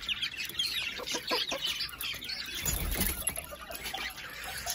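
Hen clucking in a backyard coop, a steady run of close, repeated clucks with some rustling and no talk.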